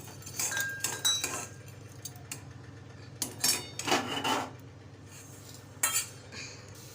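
Roasted chana dal scraped and tipped from a hot pan into a wide parat for chakli bhajani, giving repeated metallic scraping and rubbing bursts with a few clinks, fairly close, with no talk.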